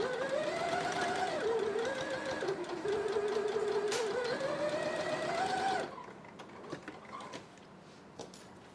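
An overlock sewing machine runs fast and steadily for about six seconds as it closes a seam, with a whirring hum that slightly shifts in speed. It then stops, followed by faint handling noises.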